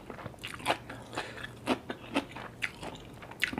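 Someone eats a Thai shrimp-fat chili dip, with close, irregular crunchy bites and moist chewing spread across a few seconds, and no talk.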